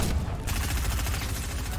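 Rapid gunfire in the Fortnite video game, a fast rattling burst of shots close up and fairly loud, continuing steadily without pause.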